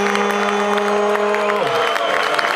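Concert crowd applauding at a show, a dense continuous wash of clapping with some cheering, loud and steady throughout, with sustained tonal stage sound running underneath.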